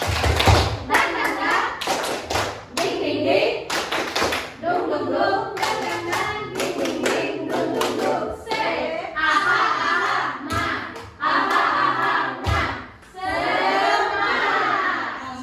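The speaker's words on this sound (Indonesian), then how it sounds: "Kita mulai ya, 1, 2, 3, tepuk semangat." A group does tepuk semangat, an Indonesian rhythmic spirit clap, with loud, patterned bursts of clapping that alternate with chanted or shouted voices, keeping a rhythm through the whole sequence.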